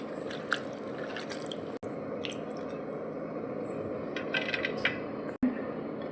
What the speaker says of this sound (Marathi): ती छान वॉश करून घेऊया।